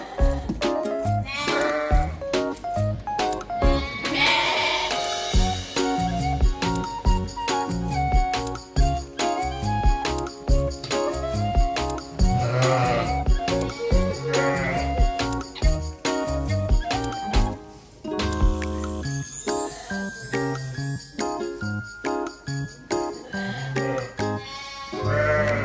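Triplet lambs at the Ishikari sheep farm bleat repeatedly, their calls loud and close with overlapping cries, a tinkling bell and other farm noise in the background.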